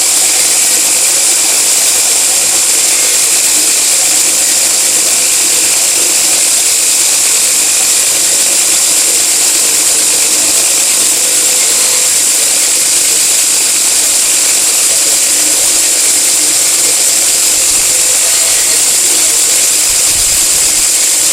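A 2x72 inch belt grinder cleaning mill scale off a piece of steel: a loud, continuous high-pitched abrasive whir and hiss that runs unbroken throughout, with no voices.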